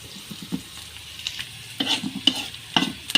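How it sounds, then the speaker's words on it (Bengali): Onion sizzles in hot oil in a pan with turmeric nearby, while a spoon stirs it in irregular scraping strokes that grow busier and louder toward the end. "পেঁয়াজটা ভাজা হয়েছে"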